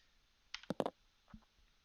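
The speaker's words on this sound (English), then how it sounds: "You roll the dice" Dice rattle and clatter briefly across a tabletop during a board game, a quick cluster of sharp clicks followed by a single soft knock as they settle, close and fairly quiet.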